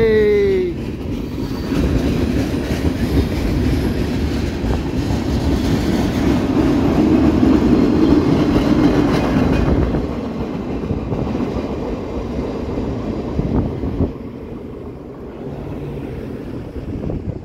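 A local freight train with a caboose on the back rolls past at close range, a steady loud rumble of wagons with clickety-clack from the rails and wind buffeting the microphone, easing slightly toward the end.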